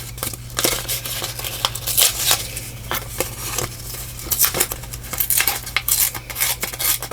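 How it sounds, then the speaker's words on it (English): Paper being torn into pieces for a collage in a glue book, a quiet run of sharp rips and crinkles repeating irregularly at close range, alone without speech. "And we'll tear some of these up."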